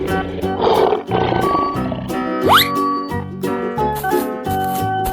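A lion roars in a 3D animal slide game alongside a dinosaur, cow, hippo and gorilla; a loud growling roar sits over upbeat looping music with a sliding whistle effect.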